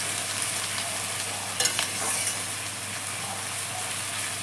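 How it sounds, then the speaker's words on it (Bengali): Onions frying in a pan for a mutton curry, a faint steady sizzle with a brief stirring scrape in the middle, close and quiet with no talk. "খুব সুন্দর করে ঢাকা দিয়ে পেঁয়াজটাকে আমি ভেজে নিই।"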